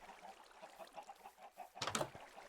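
Chickens cluck around a chicken coop in a blocky video game world, a steady run of soft clucks under a low background bed, building to a louder burst near the end.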